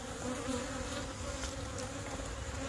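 Honey bees buzz around hives during an early spring inspection, a dense, steady drone that stays close and constant throughout with no voices.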